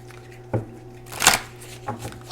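Tarot deck, an Illuminated Star Tarot Volume 2, being shuffled by hand, giving soft riffling and brief card flutters close by, with a few light taps and no talking.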